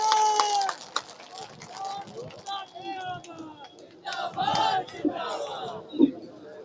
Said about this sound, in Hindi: आप सबसे से आह्वान करता हूं, एक बार जोरदार तालियों के साथ अपने चुने हुए सदन का